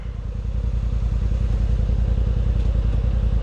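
A trail off-road vehicle idles and crawls on a rocky trail with a steady, loud, low-pitched throbbing engine note that holds without pause.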